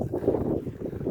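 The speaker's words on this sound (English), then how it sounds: "Windy conditions." Wind gusts at an outdoor rifle range, shown as a steady low rumble buffeting the microphone throughout with no clear pauses.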